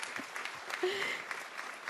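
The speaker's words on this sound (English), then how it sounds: "Yes, he deserves an applause." A conference audience at a sustainable development report presentation applauds, a steady wash of many hands clapping at moderate distance, brief and fairly soft.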